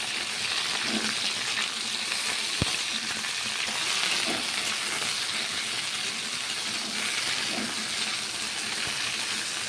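Mixed vegetables for a five-vegetable Bengali curry with fish head frying together in a pan, a steady, even sizzle with faint stirring scrapes and one sharp metallic clink, no voices.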